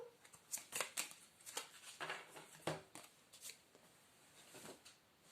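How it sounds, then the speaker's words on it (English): Quiet, close riffling and flicking of cards being shuffled, coming in several quick bursts with short pauses between them. "I'm going to shuffle my regular cards."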